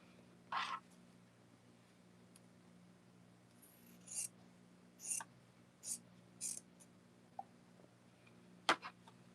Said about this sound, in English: either with our scissors, which I already have in hand, or our rotary cutter. We cut, leaving a 1/4 inch.